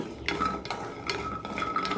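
Jackfruit seeds roasting in a pan are stirred with a utensil, giving several scraping, clinking strokes in a loose rhythm, close and moderately loud.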